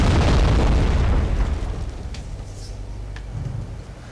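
Missile explosions in the Wargame: European Escalation video game: a heavy, loud boom that opens the clip and rumbles away over several seconds, with faint crackles and a smaller thud near the end, and no talk.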